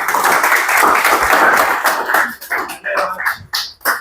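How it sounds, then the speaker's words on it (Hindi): Audience applause at the Hazaribagh Laugh Club stand-up comedy show, a dense burst of clapping that tapers into scattered, irregular claps near the end. "एक बार जोरदार तालियां हो जाए।"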